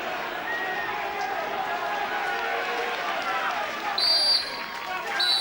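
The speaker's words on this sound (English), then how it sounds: "there is the full-time whistle" A referee's full-time whistle ends a Torquay United football match, a sharp, high blast rising over the steady roar of the crowd and a commentator's voice.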